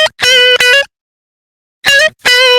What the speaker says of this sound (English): the guitar itself sounds like this.